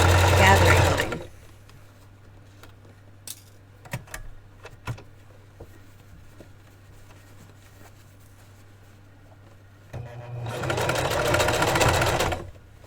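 A heavy duty Singer sewing machine stitches thick fabric for a Barbie dress bodice, running in two loud bursts at the start and end with a quiet pause between them where a steady low hum and a few soft clicks remain.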